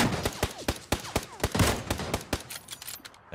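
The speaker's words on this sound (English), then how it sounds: "He's taking a shot at me." A run of sharp, loud gunshots cracks out in a video game sniper match, roughly a dozen distinct reports spaced irregularly with brief echoing tails.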